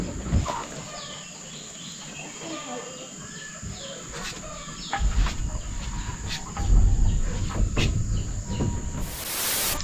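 Chickens being tended in a coop on a small farm beside a forest, with soft intermittent clucking and bird calls over a steady insect drone and outdoor background noise; a cock crow is possible.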